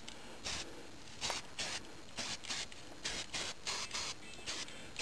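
Screws shaken and rattled around inside a box to coat them, recorded during RV vinyl trim strip installation; a steady series of close, loud gritty rattling bursts in a rough rhythm, alone.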